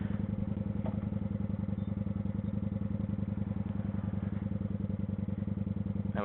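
A motorcycle engine runs as the clutch is slowly released from a stop, putting out a steady, close, low pulsing throb with even rapid firing beats that holds throughout.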